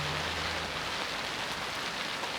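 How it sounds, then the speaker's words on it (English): Heavy rain pours down in a steady, dense hiss with wind blowing during a storm on an ice camping trip, loud and unbroken throughout with no voices. "Super windy, super rainy."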